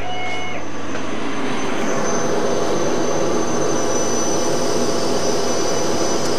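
An AEON Redline Mira laser cutter runs a cut on a vintage-style sign, giving a steady loud whooshing hum of fans and air assist with a faint high tone, continuous and without talk.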